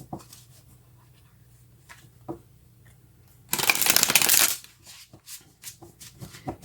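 Tarot cards are shuffled in one loud, crisp riffle lasting about a second, close by, with quiet room tone and faint scattered handling noises before and after.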